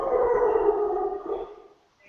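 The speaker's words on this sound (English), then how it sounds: "Oh, those are my dogs." Several pet dogs howl together indoors, a sustained, wavering chorus of overlapping tones that fades out after about a second and a half, with no talking over it.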